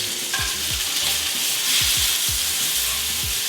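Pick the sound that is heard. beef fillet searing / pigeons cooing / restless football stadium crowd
beef fillet searing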